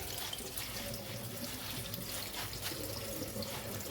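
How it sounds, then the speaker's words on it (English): A kitchen tap runs steadily to rinse greens, a continuous close rush of water into the sink with no talking over it. "Get the tap running."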